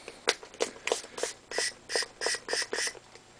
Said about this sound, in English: Spray the water.